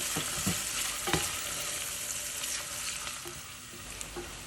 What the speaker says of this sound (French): on va couvrir la casserole et on laisse cuire jusqu'à que les oignons soient bien dorés